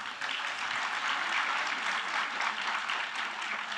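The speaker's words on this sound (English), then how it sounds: "kindly join us in extending a heartfelt round of applause to honor the presence of our esteemed chief guest, Ms. Esha Deol," A crowd claps for the chief guest, actress Esha Deol, at a school's 20th Founders' Day, a dense, even wash of applause continuing throughout at moderate loudness.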